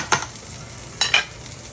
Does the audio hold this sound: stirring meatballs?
yes